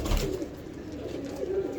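Pigeons in a breeder loft give a low, soft coo, heard close and alone over a brief stretch.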